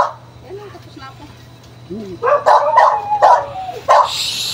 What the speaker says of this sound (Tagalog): Ingin na naman yung mga aso ha.